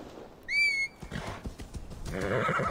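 A horse whinnies in the video game Assassin's Creed Valhalla, a loud harmonic neigh early on, followed by scattered hoof thuds and a rising rush of in-game movement noise.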